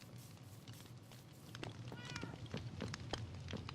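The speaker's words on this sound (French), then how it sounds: "Avec ce magnifique chat là que j'ai volé" A cat meows in the Minecraft video game, a short faint mew rising midway through, under quiet in-game sounds and soft footsteps.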